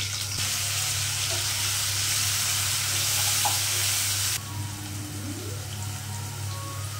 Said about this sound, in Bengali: যে কুচো করে ছোট করে কাটা আলুগুলো প্রথমে তেলে দিয়ে দেবো